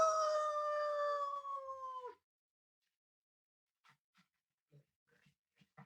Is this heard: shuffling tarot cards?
no